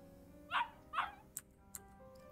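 A dog barks twice in the video game Yakuza Kiwami, two short close yips about half a second apart, followed by a couple of faint clicks over a quiet game background.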